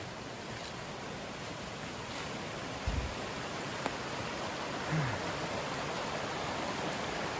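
A small mountain stream at a campsite water source in Great Smoky Mountains National Park rushes with a steady, even wash of water, broken by a couple of faint knocks nearby.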